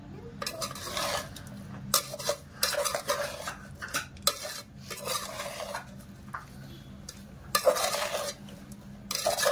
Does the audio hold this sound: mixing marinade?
yes